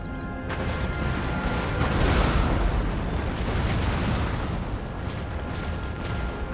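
A cannon volley roars across a battlefield in the Empire: Total War game: a continuous heavy rumble of overlapping artillery blasts, loud and sustained, with no talking.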